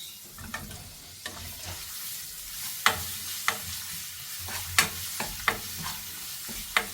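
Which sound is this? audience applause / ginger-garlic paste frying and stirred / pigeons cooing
ginger-garlic paste frying and stirred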